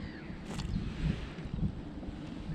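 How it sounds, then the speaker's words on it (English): Breezy wind buffets the microphone on a lake while kayak fishing, a low, steady rushing noise with faint gusts, and no voices. "A bit breezy today, but it's calmed down a bit actually in the last 5 minutes."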